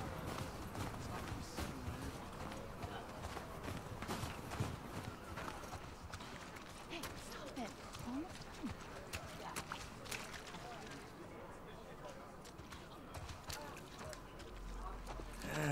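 Horse hooves clopping at a walking pace in The Last of Us Part II, amid a busy, layered soundscape, with scattered knocks and rustles throughout.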